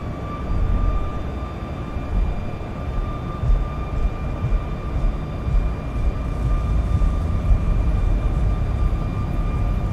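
Simulated Boeing 737 MAX 8 engines spool up on the takeoff roll in X-Plane 11, a steady, broad jet roar with faint whining tones that slowly swells louder over ten seconds, with no talk.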